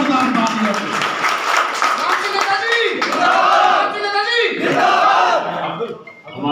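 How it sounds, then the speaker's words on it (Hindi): A crowd claps loudly and steadily, with shouts and cheers mixed in and a voice carrying over the applause before it fades. "आप जोरदार तालियां दें।"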